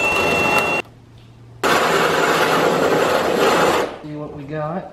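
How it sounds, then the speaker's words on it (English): A drill with a step bit runs loudly through carbon fiber in two bursts separated by a short pause, then gives way to a voice speaking at the end. "Just use this step bit"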